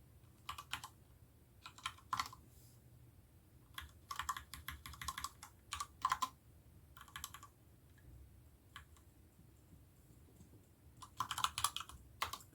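Bursts of clicky keystrokes on a computer keyboard during a scientific computing lecture, coming in irregular clusters with short pauses, fairly faint over a low room hum, no talking.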